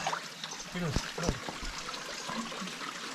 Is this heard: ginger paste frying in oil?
no